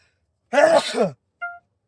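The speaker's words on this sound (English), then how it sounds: "You know, I'm about to sneeze hard." One sharp, close sneeze bursts out inside a car at a car wash, followed a moment later by a short electronic beep.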